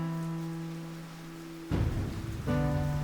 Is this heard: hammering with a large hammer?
no